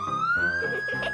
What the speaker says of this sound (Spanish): Apaga la sirena.